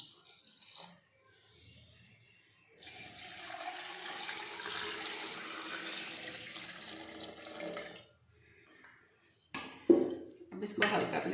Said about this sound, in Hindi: इतना पानी डालेंगे कि गाजरों के ऊपर आ जाए पानी।